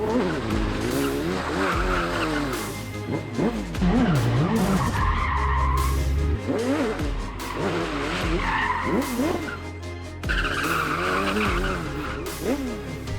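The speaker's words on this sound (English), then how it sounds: "It was so much fun to drive and drift here." Smart car fitted with a Hayabusa motorcycle engine drifting on a paved course, tires skidding and squealing continuously over a high revving engine that rises and falls, loud and close.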